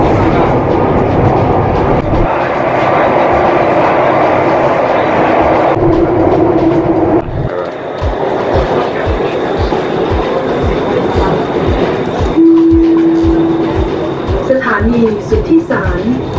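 Bangkok MRT metro train running, loud rumbling motion with rhythmic clickety-clack wheel beats and brief squealing tones, mixed with what may be announcements or voices.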